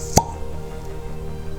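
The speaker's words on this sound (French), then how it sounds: "Et on va pouvoir ouvrir la bouteille." A sharp single pop as the cork is pulled from a bottle of Kavalan Solist Sherry Cask cask-strength whisky, near and brief, followed by a quiet room hum.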